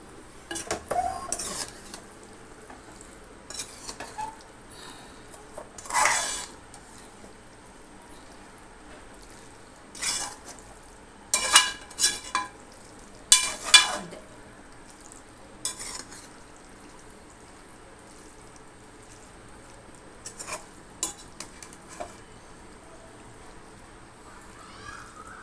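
Mutton noodles in tomato sauce being stirred in a pan on low heat: scattered metallic scrapes and clinks of a utensil against the pan, in irregular bursts over a quiet, faint background, with no one talking.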